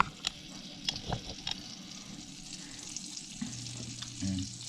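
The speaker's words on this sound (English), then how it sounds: "we're going to let these mushrooms cook down" Mushrooms cook down in a pan with bourbon, balsamic and Worcestershire, giving a quiet, steady sizzle broken by a few sharp clinks and scrapes.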